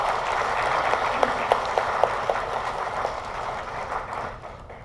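A room gives a burst of applause to welcome Bishop Moon Chang-woo at a church talk concert. Broad, sustained clapping with a few sharper claps stands out, then fades near the end.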